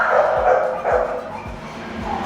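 Puppy giving a string of short, soft barks and yips, about four evenly spaced, close by over a steady background hum.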